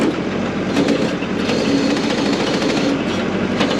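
Backhoe engine running with the RPMs up, a loud, steady, rumbling diesel roar with a faint rapid knocking pulse, no talking.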